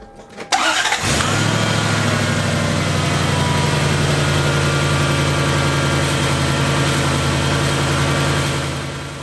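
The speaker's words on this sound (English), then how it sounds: "I'm going to start the engine real quick" A Lexus LS400 sedan engine cranks briefly, catches and settles into a steady, smooth idle that holds loud and close before easing slightly at the end.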